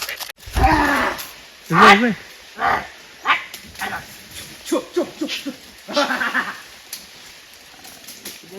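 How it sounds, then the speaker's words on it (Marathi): A dog barks at a monkey in a series of short, loud outbursts spaced irregularly, with voices chattering in the background. "घाबरला का काय कुत्रा त्याला सवय नाही पहिल्यांदाच माकडा बघितला"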